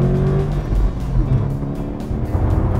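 A 2015 Subaru STI cruises on the highway at about 70 mph, heard from inside as a steady low engine drone with road and tire rumble that swells slightly, with no talking.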